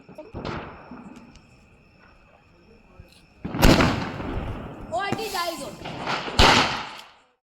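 Diwali firecrackers burst outdoors during a family festival night, several sharp loud bangs with crackling tails spaced a few seconds apart, with people talking and calling out around them.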